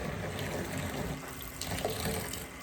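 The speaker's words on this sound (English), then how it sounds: "I'm going to add some more water." Water pours steadily into a basin for washing a wig, a continuous close splashing and trickling rush with no talking.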